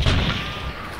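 Suppressed gunfire heard in the Hunt: Showdown video game comes as a continuous muffled, booming wash of shots and low thuds throughout.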